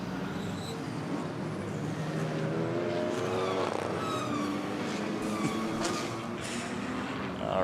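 GT race cars circulate slowly under caution on a wet Indianapolis circuit during an 8-hour endurance race, engines a moderate, continuous drone with faint passing swells and distant background noise throughout.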